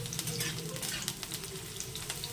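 Bitter gourd pieces frying in mustard oil in a wok over a gas flame, a bright steady sizzle with crackling pops and occasional stirring scrapes, close and continuous.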